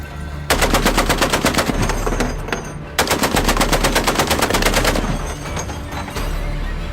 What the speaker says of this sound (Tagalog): umalingaw-ngaw ang putok ng 50 caliber na machine gun